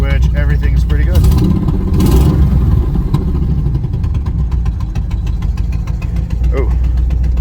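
A car engine idles loudly up close with a worn throw-out bearing squealing, steady mechanical rumble carrying high whining tones that fade in and out, while a voice speaks over it.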